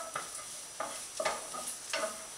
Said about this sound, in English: where they're just starting to brown a little bit, then I add the garlic.